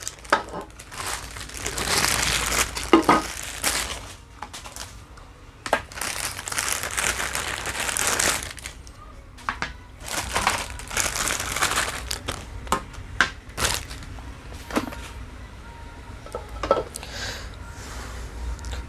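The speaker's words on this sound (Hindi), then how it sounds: "मैं जल्दी से पॉलीथीन रिमूव करता हूँ।" Polythene wrapping crinkles and rustles continuously as it is pulled off a Pigeon Nutri Mixer 900 W and its parts, loud and close with sharp crackling bursts throughout.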